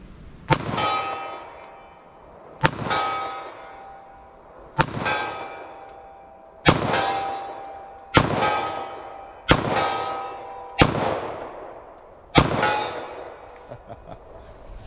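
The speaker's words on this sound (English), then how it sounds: "Let's see what I can do with this 45 ACP Glock here." A .45 ACP Glock pistol fires at steel targets from 40 yards, giving eight sharp, loud reports spaced a second or two apart, each followed by a ringing metallic clang that decays.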